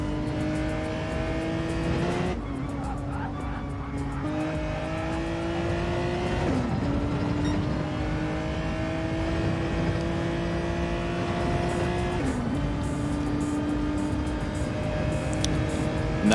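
WTCC touring race car engine in a sim racing game at Spa-Francorchamps, a steady loud drone that climbs in pitch through the gears, with several sharp drops at each upshift.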